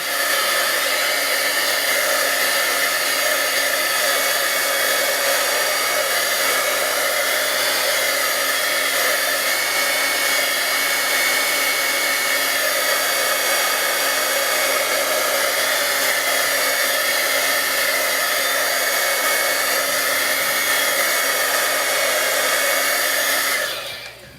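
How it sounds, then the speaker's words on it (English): A heat gun blows hot air to dry ink smooshed onto paper with mists. It gives a loud, steady, close whir that runs unbroken for about twenty-four seconds before cutting off at the end. "you can either wait to let it dry, or you can grab your heat gun"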